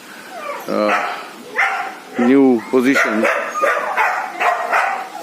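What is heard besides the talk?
dogs howling and barking in shelter kennels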